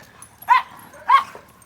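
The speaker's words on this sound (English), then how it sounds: "Gunner, don't bark at the goats." A dog on a farm barks at goats, giving two evenly spaced, moderately loud yippy barks against a quiet outdoor background.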